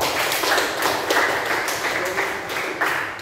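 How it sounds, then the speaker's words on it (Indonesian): A classroom group claps for a presenting student team, a brisk, continuous burst of applause filling the room at close range for a few seconds. "tepuk tangan dulu untuk kelompok 3"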